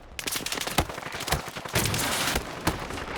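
Gunfire in the video game Battlefield 6 breaks out as a burst of sharp, loud shots in an irregular volley, some close and some further off, over a rumbling battlefield background.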